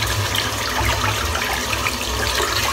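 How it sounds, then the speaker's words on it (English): A synthetic shaving brush is rinsed under a running tap, the steady broadband rush of water splashing and flowing continuously and close by for a few seconds with no talking. "Rinse the brush out."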